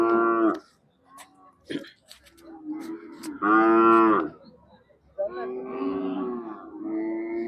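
Several loud, drawn-out moos from a Khillar cow close by at a cattle market, separated by brief pauses and a few soft rustles.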